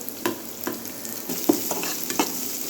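Onions fry in a pan while making parathas, with a soft continuous sizzle. Close, sharp clinks from a spoon stirring and tapping against the pan come at irregular intervals, and no one talks.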